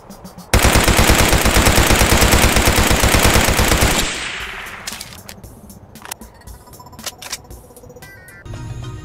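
An SMG in a Roblox game fires a long rapid burst at full loudness, then cuts off into quieter scattered clicks, pings and game effects.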